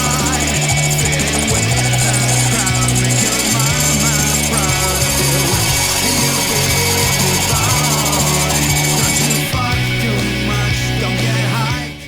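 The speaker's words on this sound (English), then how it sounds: "Center punch the holes and proceed with drilling them out." Drill with a step bit boring center-punched holes through steel while building an English wheel metal-shaping tool, loud and close, with a harsh grinding chatter and repeated bursts of cutting as the bit steps through.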